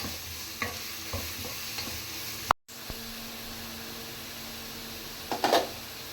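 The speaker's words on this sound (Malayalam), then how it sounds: "ഇത് നന്നായിട്ടൊന്ന്" Noodles and vegetables being sautéed in a pan give a steady soft sizzle with occasional stirring clicks, a brief cut to silence, then a louder scrape of the utensil near the end.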